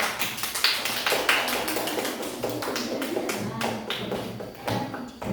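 Fourth-grade classroom clapping for a student group, a brisk burst of hand claps with quick irregular taps, close and fairly loud, with a teacher's voice briefly over it.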